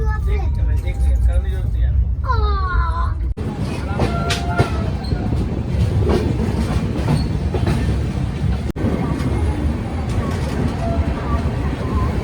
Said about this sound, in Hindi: समस्तीपुर से हो गया है डिपार्चर सरयू यमुना एक्सप्रेस का